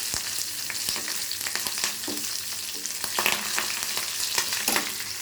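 Dried red chillies and curry leaves frying in hot oil for a carrot chutney, crackling and spitting in a busy sizzle with repeated scraping stirs, close and clear without any voices.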